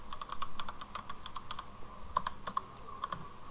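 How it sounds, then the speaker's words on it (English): A password is typed on a computer keyboard in a steady run of light, close key clicks, with a few sharper taps standing out, and no voices. "I have typed my password."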